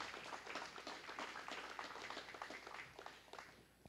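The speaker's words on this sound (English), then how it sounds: "go ahead and give all these heifer exhibitors a big round of applause" Scattered applause from a thin ringside crowd at a county fair 4-H and FFA beef show for heifer exhibitors, a soft, fairly distant patter of clapping that slowly thins out.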